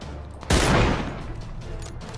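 A gunshot rings out in the game PUBG, a single sharp, loud blast followed by a fading echo and softer background noise.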